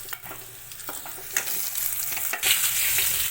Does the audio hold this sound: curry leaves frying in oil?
yes